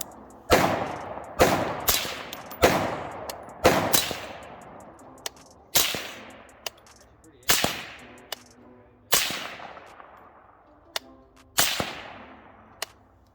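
Gunshots ring out in a series of about eleven sharp, loud reports with echoing tails, spaced unevenly every second or so, fired outdoors with no talking over them.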